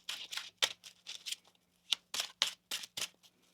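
Tarot cards are shuffled up close in a quiet room, a quick series of soft riffling and snapping bursts in an uneven rhythm with short pauses between them.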